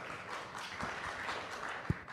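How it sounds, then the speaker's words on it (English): Faint, diffuse applause from a conference audience at FOSSASIA Summit 2025, welcoming a MySQL speaker to the stage: soft, distant clapping with a couple of louder thumps, low in level throughout. "please give him a round of applause and welcome him on stage"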